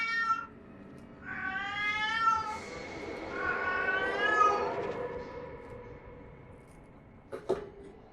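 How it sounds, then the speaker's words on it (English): A cat in The Sinking City video game lets out long, drawn-out meows, two wavering yowls close by that rise and fall, followed by a quiet stretch and a brief knock near the end. "the cat tried serenading me"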